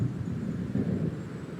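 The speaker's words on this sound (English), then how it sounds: "It seems there's a storm coming." Low, rumbling thunder from a storm rolling in over the lake in Alan Wake, a steady deep grumble that stays fairly faint and continuous with no voices.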